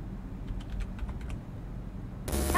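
Quick bursts of keystrokes on a computer keyboard, a short run of clicky taps close by over a low background hum, ending as a louder noise cuts in; no talking.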